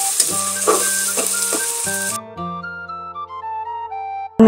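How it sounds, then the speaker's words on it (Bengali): Ginger and garlic sizzle in oil with turmeric, chili and coriander powder and garam masala for a chicken and potato curry. A few stirring knocks sound before the frying drops away and steady electronic tones carry on. "আদা রসুনটা ভাজা ভাজা হয়ে গেলে আমি হলুদ মরিচের পাউডার, ধনিয়া পাউডারগুলো দিয়ে দিচ্ছি, সাথে গরম মশলা দিয়ে দিচ্ছি।"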